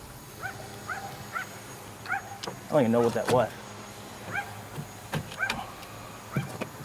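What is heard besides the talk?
dogs barking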